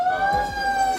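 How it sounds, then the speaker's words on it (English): An ambulance siren outside holds a steady high tone, loud and continuous through the second, with low rumbling traffic beneath it. "That's the ambulance outside."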